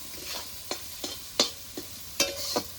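Chowmein ingredients frying in a pan give a soft sizzle, while a spatula scrapes and clacks against the metal in about seven sharp, irregular strokes. Nobody speaks.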